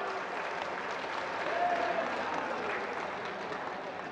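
Dense, steady applause from a large crowd at a political rally in Odisha, sustained throughout at an even, loud level with a faint voice briefly audible.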